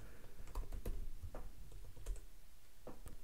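Fingers type on a computer keyboard, quick irregular clicks of several keystrokes at close range over a faint background hiss, with no talking.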